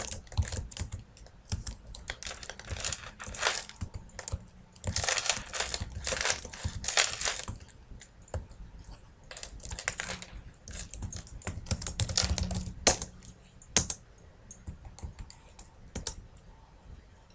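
A computer keyboard's up arrow key is pressed over and over in quick bursts of clicks, close and fairly loud, with a few short pauses between runs and no talking.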